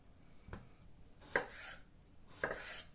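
A kitchen knife chops through a vegetable's root end while preparing a Bulgarian Shopska salad, giving three distinct cutting strokes with a brief board knock each, close and fairly quiet, with no one talking.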